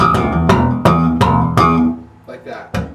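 Old-school 70s-style slap bass: five sharp thumb strikes over the pickups, each a bright percussive attack ringing into sustained low notes, then quieter muted ghost plucks and a final slap, played solo up close.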